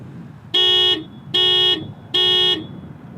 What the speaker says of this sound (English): So there's your horn.